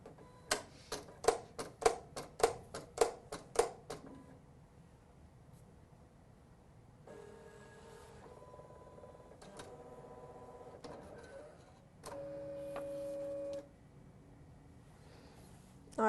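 Electronic craft cutting machine cutting a paper turkey piece: a rapid series of sharp mechanical clicks, then quieter whirring carriage movements and motor hums in short bursts, close and moderately quiet, no talking.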